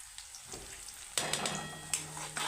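Chopped onion fries in oil in a pan for dal, a quiet sizzle broken by a few clattering stirs of a spatula against the pan.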